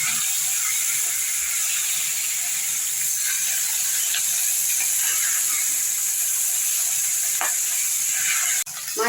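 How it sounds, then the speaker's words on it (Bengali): Pabda fish fries in oil under a lid in a pan, a steady dense hiss of sizzling with a few faint clicks and a sharp clatter near the end. "যেহেতু পাবদা মাছে একটু তেল ছিটা, তাই জন্য আমি একটা প্রথমে ঢাকা দিয়ে এক পিসটা ভেজে নিচ্ছি"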